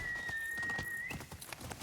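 Horse hooves clopping at a steady gallop in the video game Ghost of Yotei, a rapid rhythmic beat under a sustained whistling tone, with no talk.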